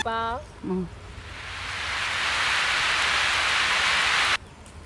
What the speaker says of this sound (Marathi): खूप जोरात पाऊस पडाक लागलेलो